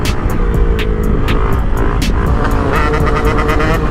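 A Honda Grom motorcycle engine revs hard while being ridden, a loud, close, buzzy drone that climbs and shifts through the gears over steady road and wind noise.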